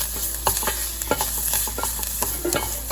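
Chili powder sizzles in hot oil in a pan for dal fry, with steady frying hiss and repeated scraping clicks of a spoon stirring, close and fairly loud throughout.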